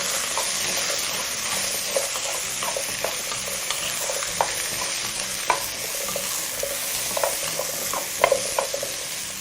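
Vegetables for a curry are stirred in a pot over a steady sizzle, with intermittent scraping clicks from the utensil, close and clear.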